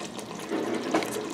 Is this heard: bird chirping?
no